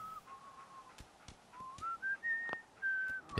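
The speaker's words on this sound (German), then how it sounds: "Ja, der kann sehr gut pfeifen." A character in the video game Fallout 4 whistles a wandering tune, sustained notes gliding up and down with short gaps, soft and alone over faint game ambience.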